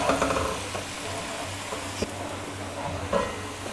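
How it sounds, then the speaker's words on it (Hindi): Chopped onions softening in hot oil in a pan for a cream chicken karahi, a steady soft sizzle with occasional clinks and stirring bumps, no talking. "1 मिनट तक अनियन को हमने इस तरह से ऑयल में फ्राई किया"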